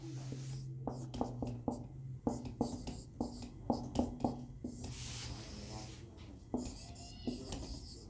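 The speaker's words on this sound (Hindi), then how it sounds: "चलो यहाँ नीचे लिख देता हूँ" Chalk or marker tapping and scratching on a board as a maths teacher writes numbers during a tenth-class lesson, a quick irregular run of close, sharp strokes with soft background noise.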